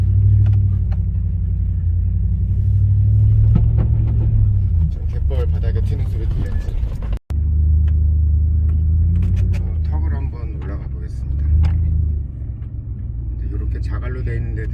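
A Hummer rumbles along off-road across a muddy tidal flat, its engine droning steadily and loud throughout, with people talking over it and one brief dropout midway.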